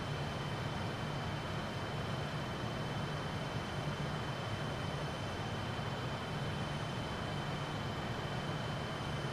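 Fokker F28 jet airliner cruising in a flight simulator, a steady, even cabin-style drone of engine and air noise holding unchanged throughout, with no voices.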